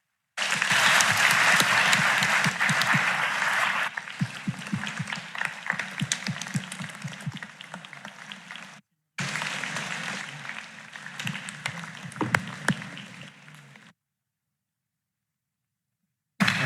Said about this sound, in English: So can I please ask you to join me in a big round of applause to thank Elliot for a very good lecture.